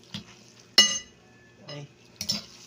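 Pancit canton instant noodles, sweet and spicy mixed with chili mansi flavor, being tossed in a pan, with a few separate clinks and scrapes of a utensil against the metal spread across a short, quiet stretch.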